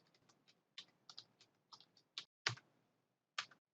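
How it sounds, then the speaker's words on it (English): Quiet, close computer keyboard typing, irregular bursts of individual key clicks with short pauses between them, including a few sharper, heavier presses. "So then I'm going to type again."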